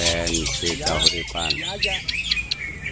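Green leafbird (cocak hijau) calling at a village bird song contest, its chirps and squawks mixed under a loud announcer's voice and crowd noise throughout.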